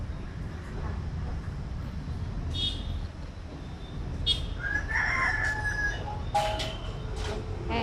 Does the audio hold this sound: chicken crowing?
yes